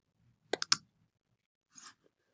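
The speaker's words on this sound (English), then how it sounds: "we're going to go ahead and we're going to roll the 3 dice" Three dice rolled onto a hard surface make a quick burst of sharp clicks and clatters, close and crisp, followed a moment later by a softer rattle as they settle, otherwise quiet.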